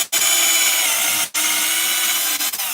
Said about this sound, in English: This will drill quicker, even though it's a bigger size.